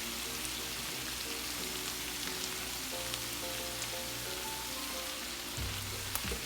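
Potatoes and onion for a roasted chicken hash frying in a pan make a constant, crackling sizzle, close and even, with a brief shift near the end and no talking.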